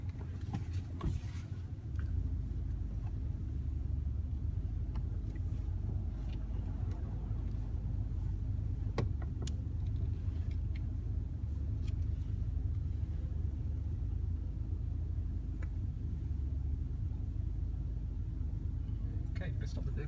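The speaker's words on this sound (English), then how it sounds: "we'll do that straight line reverse until I ask you to stop" A car reversing slowly in a straight line during a driving lesson gives a low, steady engine rumble throughout, with soft voices faintly in the background.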